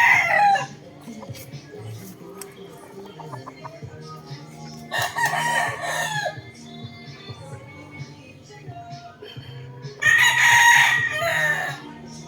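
Three loud rooster crows ring out at the start, middle and end, separated by quieter stretches of farmyard background, from a prized gamefowl cock on a muddy farm.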